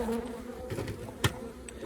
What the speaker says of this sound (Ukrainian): це у нас є бджолосім'я